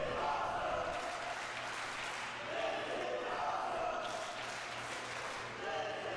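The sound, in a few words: wrestling crowd chanting "This is awesome"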